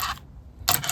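Steel ball bearings spill from a Mazda B-series pickup steering box during a rebuild, making two bright, brief metallic clattering bursts separated by a short quiet gap, close and fairly soft.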